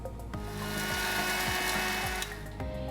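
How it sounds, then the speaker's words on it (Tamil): A kitchen mixer grinder whirs at high speed, blending bread into crumbs, a steady close motor whine lasting a few seconds with slight pitch changes. "இந்த டைமில் நம்ம இந்த ப்ரெட்டை மிக்சியில் அடித்து எடுத்துக்கலாம்"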